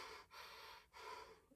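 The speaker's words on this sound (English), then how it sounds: "when we're really stressed, 40, where we're just shallow breathing and we just go" A person demonstrates quick, shallow stressed breathing, with two rapid breaths in and out, close and clear with no talking.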